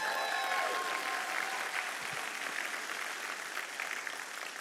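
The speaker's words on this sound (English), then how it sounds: "can we all give a loud cheer for us?" A keynote conference audience applauds and cheers, a broad, even wash of clapping that holds steady and fades slightly toward the end.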